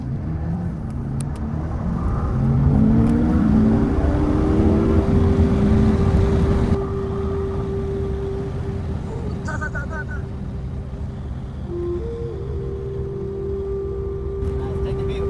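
A 2025 Lexus IS350 AWD F Sport is driven at high speed on a back road. A steady engine and road rumble fills the cabin, swelling early and then holding a constant droning tone.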